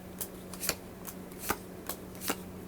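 Six cards are drawn one after another during a tabletop board game, each a quick papery snap or slide, about six soft crisp strokes spread across a few seconds with no talking.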